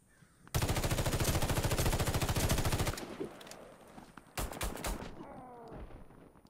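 Gunfire in the Warface shooter game: a long loud rapid automatic burst lasting over two seconds, then a short second burst after a pause.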